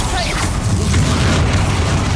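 A deep rumbling blast from the Bombarda spell in the Hogwarts Legacy video game on PS5 fills the moment, loud and sustained with a low booming roll beneath a brief whooshing cast.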